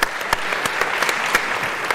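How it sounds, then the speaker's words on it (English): A roundtable audience gives sustained applause, close and fairly loud, with a few sharper claps standing out from the steady wash. "Let's give him a round of applause as well."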